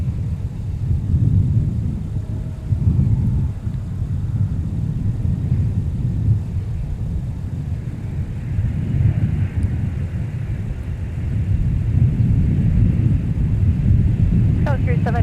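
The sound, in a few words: SkyWest airliner arriving at Minneapolis airport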